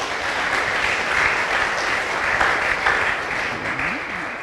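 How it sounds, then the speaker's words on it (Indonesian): An audience claps steadily at a religious gathering, a dense, continuous round of applause that holds at an even level throughout. "Kita tepuk tangan dulu saudara-saudara."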